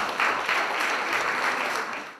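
Audience clapping at an amateur theatre premiere in a castle chapter hall, a dense, even burst of applause from a crowd, steady and fairly close, fading slightly at the end.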